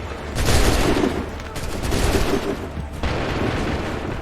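Assassin's Creed 3 musket volleys fire on command, a loud crackling fusillade of many overlapping shots with booming bursts and dense rattling gunfire that carries on throughout.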